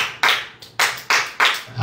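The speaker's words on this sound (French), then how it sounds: "Acclamez Jésus pour sa vie" Three or four bursts of hand clapping from a children's Bible quiz group, each sharp and close, fading between bursts in an uneven rhythm.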